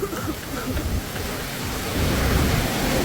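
Steady heavy rain pours down with a deep rumble of thunder rolling beneath it, a loud, continuous wash of noise that swells slightly toward the end.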